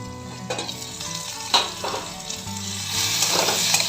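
Food is stirred in a pan on a gas stove, with a loud, close, continuous sizzle and several scraping and clinking strokes from the utensil.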